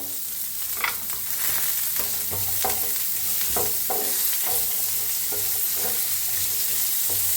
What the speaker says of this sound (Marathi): आता इथं वल्लभ खोबरं घेतलेलं आहे ते मी भाजून घेऊया